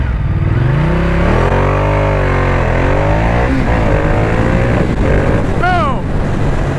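A 1200cc Ducati Diavel sport bike accelerates hard from a standstill, its engine note rising through several gear changes with loud wind buffeting over the microphone throughout.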